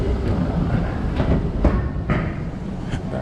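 A train in Taipei rumbles steadily from inside the carriage, with a series of irregular clacks and knocks over the continuous low roar and no voices.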